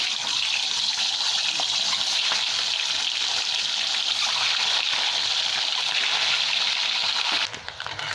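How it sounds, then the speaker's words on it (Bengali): Eggs fry in hot oil in a pan while egg biryani is being cooked, giving a loud, steady, broad hiss and sizzle that runs unbroken and eases slightly near the end. "এবার আমি ডিমগুলো ভেজে নিচ্ছি"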